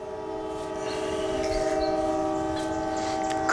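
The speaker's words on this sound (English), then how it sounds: "trains off in the distance" A distant train in downtown Chattanooga sounds a long, steady horn that holds for several seconds over a low city rumble, with no one talking.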